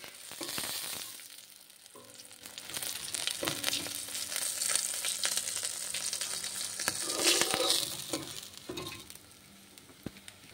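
Pieces of Bhola fish fry in hot oil for a Bengali jhal, a steady sizzle with crackling spikes and occasional scraping stirs, close and moderately quiet.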